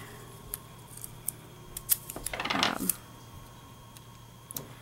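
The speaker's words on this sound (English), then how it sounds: "I'm going to take my scissors and carefully trim the edge off this piece of tape here" Scissors trimming paper and tape while making a handmade greeting card: several quick crisp snips and clicks, with a denser burst of cutting near the middle, close and clear against a quiet room.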